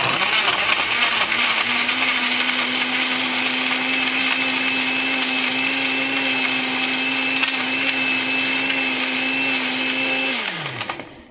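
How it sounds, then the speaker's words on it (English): A cheap $20 Walmart blender whirring through yogurt, milk and fruit, a loud steady motor whine that holds for about ten seconds, then winds down as it is switched off. "Now, what I'm going to do is blend it. Just the yogurt, the milk, and the fruit."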